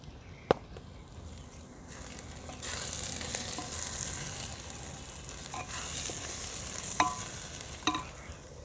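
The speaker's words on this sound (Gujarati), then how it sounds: "હવે આપણો આ તૈયાર કરેલો મસાલો નાખશું" Prepared masala drops into the sizzling tuvar gravy for North Gujarati tuvar totha, and the frying swells into a loud, hissing sizzle with a few sharp spoon clicks and stirring scrapes in it.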